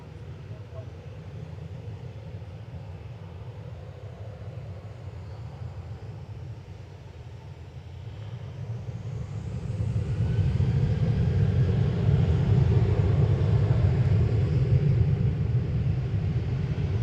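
Aircraft at Manchester Airport, a low broad engine rumble that builds to a louder sustained roar midway and holds, heard at a distance.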